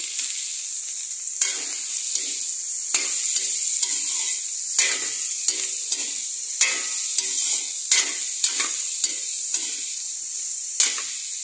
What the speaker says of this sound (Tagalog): Gisa natin ang carrot saka mga gulay.